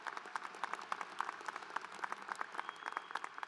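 Applause from a seated audience at a fall university graduation ceremony, a steady patter of many hands clapping at moderate distance, continuous and fairly even for the whole stretch with no voices.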